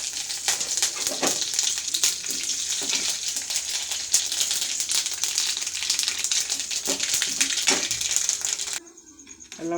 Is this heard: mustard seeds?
yes